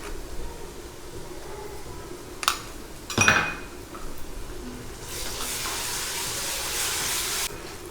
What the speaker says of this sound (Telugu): బాగా వేయించుకోవాలి.